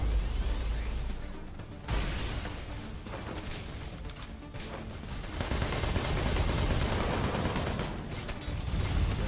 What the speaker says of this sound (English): That's the light machine gun.